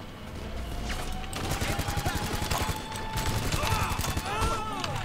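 Rapid gunfire bursts crackle through a GTA 5 Online heist shootout on Cayo Perico, dense repeated shots layered over game ambience and a steady background hum.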